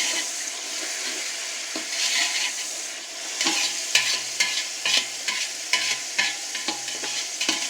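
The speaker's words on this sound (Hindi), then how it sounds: "1 मिनट तक हमें इसको यहाँ पे फ्राई करना है।" Pulao ingredients fry and hiss in a pot, a dense close sizzle broken by repeated stirring clacks and scrapes of a spoon, growing busier partway through, no talk.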